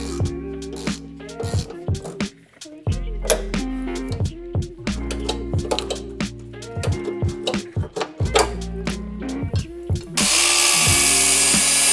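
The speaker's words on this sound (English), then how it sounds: "remove a couple bolts on the gas tank skid plate" A power tool runs in repeated short bursts, whirring and ratcheting loudly up close while bolts come off the gas tank skid plate of a fourth-generation Toyota 4Runner, with a burst of broadband noise at the end.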